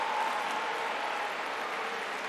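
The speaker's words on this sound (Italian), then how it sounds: "Super applauso a Don Alberto!" Steady applause from a church gathering crowd, a dense even patter of clapping throughout.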